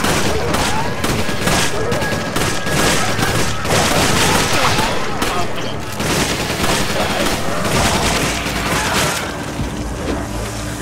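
Dense, loud bursts of gunfire from the video game Resident Evil 5, with rapid overlapping shots and booms running throughout, and brief voices mixed in.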